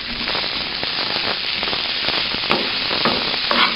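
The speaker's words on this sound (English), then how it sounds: "Let's focus our camera towards the frying brinjal over here." Brinjal (eggplant) pieces fry in a pan with a steady, dense sizzle and crackle, close and loud throughout, with no voices.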